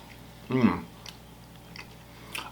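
Someone bites into a moist wedge of skillet cornbread, giving one close, soft bite and chew followed by quieter, faint chewing sounds.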